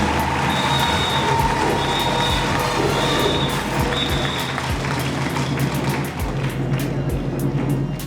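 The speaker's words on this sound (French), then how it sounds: "On applaudit." An outdoor RHDP rally crowd in Songon Mambé applauds together, a broad continuous clapping mixed with low thumps and rumble that carries steadily throughout.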